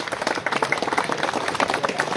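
An audience at a school ceremony claps for a meritorious student, dense, quick applause from many hands, continuous and fairly close.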